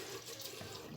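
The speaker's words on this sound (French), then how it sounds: "On vient prendre de l'eau." Water runs from a tap in a steady, continuous broadband hiss, close and unbroken, with no voices over it.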